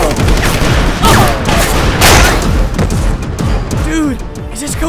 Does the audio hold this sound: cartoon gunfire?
yes